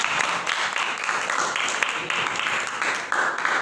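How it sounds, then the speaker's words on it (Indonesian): Classmates applaud a student during a chemistry lesson on sodium chloride formation, a steady, dense clatter of many hands filling the room for several seconds at fairly close range. "Beri tepuk tangan buat temannya."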